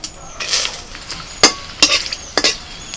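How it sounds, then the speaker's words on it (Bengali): Whole spices such as cardamom, cinnamon, cloves and star anise crackle in hot oil, giving a steady soft sizzle with a few sharper pops and scraping stirs. "ওই তেলের মধ্যে ফোড়নে দিচ্ছি এলাচ, দারচিনি, লবঙ্গ, একটা স্টার মশলা"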